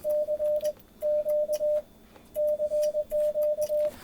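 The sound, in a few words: Morse code key being tapped to send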